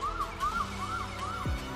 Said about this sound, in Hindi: तभी दूर से सबको एम्बुलेंस का साइन सुनाई दिया।